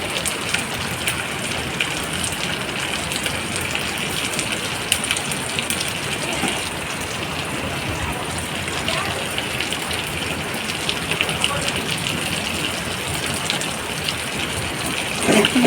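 Onion petals for restaurant-style chilli chicken sizzle in a hot pan in a steady, dense crackle from start to finish, with no voice over it.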